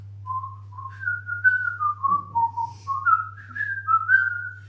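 A lone whistled melody, clear and close, with wavering notes gliding up and down over a steady low hum.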